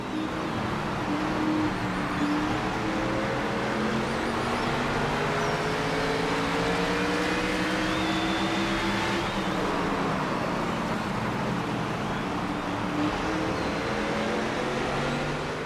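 A NASCAR 25 video game race car at Martinsville drones throughout, its pitch rising and falling with shifts and throttle changes, continuous and moderately loud with no voices.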